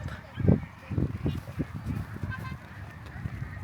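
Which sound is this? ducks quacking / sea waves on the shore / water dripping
ducks quacking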